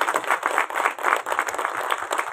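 Dense, steady applause from an audience at a Telugu movie trailer launch event, many hands clapping hard and fast, loud and close with no break for the whole stretch.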